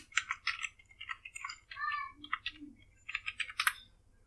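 A password is typed on a computer keyboard in quick bursts of close, crisp key clicks, with short pauses between the runs and no speech.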